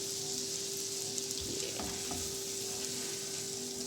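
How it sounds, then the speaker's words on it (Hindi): Flour is stirred into melted butter in a hot pan for white sauce, a steady close sizzle and frying hiss with spoon scraping through the middle, no talk. "अब हम इसको अच्छी तरह मिक्स कर लेंगे"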